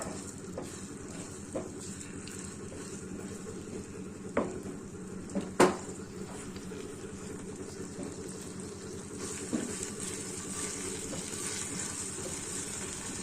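Coriander, fenugreek and cumin seeds are dry-roasted in a pan over low heat. A soft continuous sizzle and rustle runs under occasional scrapes and clinks of a stirring spoon against the metal.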